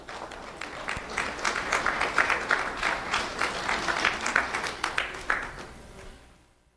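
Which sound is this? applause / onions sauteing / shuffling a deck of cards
applause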